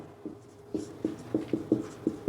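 A teacher writes notes during a geography class, a series of short, distinct scratchy strokes in a loose rhythm, close and fairly quiet, with no talking.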